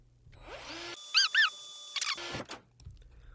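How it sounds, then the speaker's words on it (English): A heist-game drill in a bank robbery: a mechanical whir with a couple of squeaky, pulsing beeps, then a short rattling grind before it cuts off, heard up close with no talking. "Let's get the drill."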